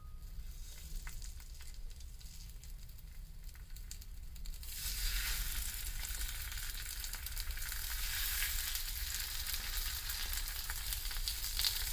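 Savi leaf vada fries in oil in a pan over low flame, a steady close hiss and crackle that grows louder and fuller partway through and then continues evenly, with no voices.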